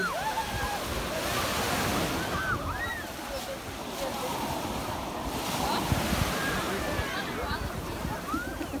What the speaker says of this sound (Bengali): সুন্দর ঢেউ